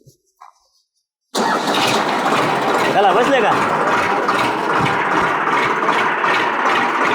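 After a moment of quiet, a tractor engine abruptly roars to life and keeps running loudly and steadily; a voice speaks briefly over it.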